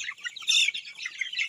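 Chicks on a free-range chicken farm chirping in high, overlapping peeps, a dense steady chorus with one louder burst partway through, close and clear with no talking.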